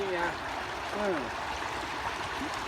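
Water floods strongly along a road, rushing steadily in a continuous gurgling flow, with a brief voice-like call near the start over the noise.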